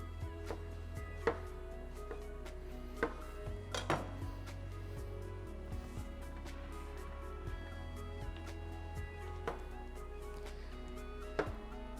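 A knife chops mushrooms steadily on a cutting board, sharp taps at an irregular pace over a low steady hum, no voices.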